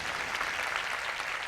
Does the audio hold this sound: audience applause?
yes